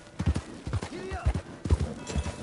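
Horse hooves clip-clop in a steady, rhythmic beat while riding in the video game Red Dead Redemption 2, each pair of hoof strikes landing close and clear, with a voice in the background.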